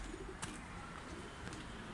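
Soft pigeon cooing outdoors over a steady wash of background noise, with a couple of faint brief rustles.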